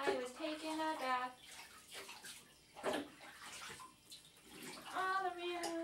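A small child splashes bath water in a tub, sloshing bursts under a child's and an adult's voices talking close by.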